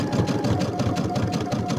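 A sewing machine stitching binding on a quilt runs steadily and close by, a rapid even mechanical chatter with a faint whine, alone without talking.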